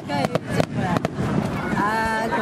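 Fireworks at the Eniwa fireworks festival, several sharp crackling bursts and pops close by in quick succession, with people talking throughout.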